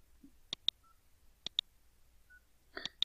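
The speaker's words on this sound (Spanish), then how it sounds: "para ello marcamos" Phone number being keyed on a Xiaomi Mi 2 to call a Mi 3: a few short key beeps in pairs and clusters, crisp and close against a quiet background.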